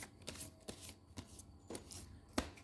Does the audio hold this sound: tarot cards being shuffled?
yes